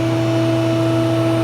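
A tube bending machine reverses its spindle with a loud, steady motor hum made of several constant tones.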